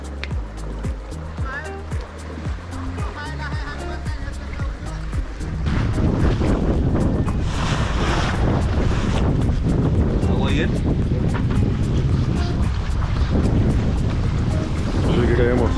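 A sailboat getting under way in open wind off the Ninigo islands of Papua New Guinea, with gusty wind noise, rushing water and hull sounds that swell louder midway, while voices talk over it.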